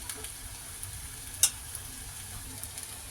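Masala chitranna rice being mixed in a pan, a soft sizzle with gentle stirring scrapes and one sharp clink of a utensil against the pan.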